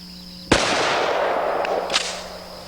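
A Mossberg shotgun fitted with a Van Kamp barrel fires one loud, sharp blast at close range, followed by a long decaying echo and a faint second report.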